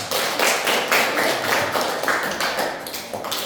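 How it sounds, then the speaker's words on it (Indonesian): Hands clap in a steady, quick rhythm in a classroom, many sharp slaps running together at an even pace for several seconds with no talking over them. "tepuk tangan."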